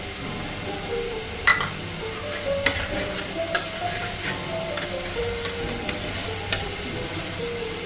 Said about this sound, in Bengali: এই যে দেখুন মাছটা কষানো হচ্ছে